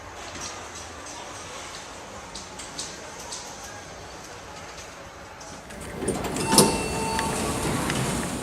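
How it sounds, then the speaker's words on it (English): An O&W hydraulic service elevator at a campus bookstore runs with a low, steady mechanical hum that swells louder near the end, marked by a brief clunk and faint whirring. "This is the elevator here at the campus bookstore."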